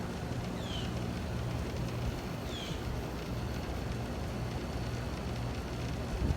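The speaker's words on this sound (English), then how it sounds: "Very quiet compressor." A 1984 Hotpoint GE 8400 BTU window air conditioner set to low cool runs its compressor as a quiet, steady low hum, with a couple of faint high chirps in the background.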